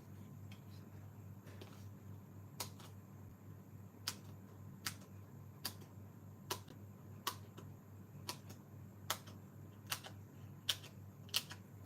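Small scissors snip through dimensional foam adhesive pieces for a handmade card, a series of crisp, regular clicks spaced about a second apart over a quiet room hum.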